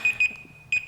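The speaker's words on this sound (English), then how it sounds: "That's my alarm." An alarm goes off with clear, repeated high electronic beeps in short pulses, a pause in the middle, then more beeps, loud and near without any talk.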